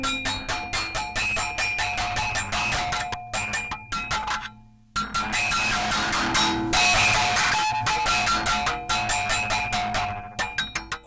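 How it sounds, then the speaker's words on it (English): Rapid metallic taps and clanks from a contact mic run through a guitar distortion pedal, giving a steady, rhythmic stream of bright, gritty hits. One short gap of near silence falls partway through. No voices. "And this one is distortion"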